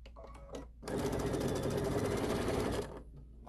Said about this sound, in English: I just have a pile of scraps sitting next to me and I can just sit here and sew stuff